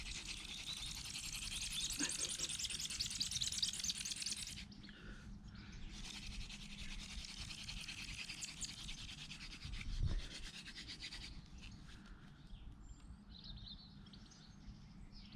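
Hand drill spindle spun between palms against a wooden hearth board to make friction fire, giving a steady dry rubbing rasp that breaks off briefly and resumes, close and moderately quiet with birds chirping in the background.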